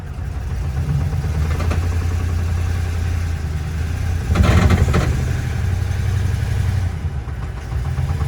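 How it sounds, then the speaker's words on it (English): An old Mercedes engine runs steadily under load, a continuous close mechanical drone with a brief swell in intensity midway and no talking. "So what I'm doing now is loading down the engine."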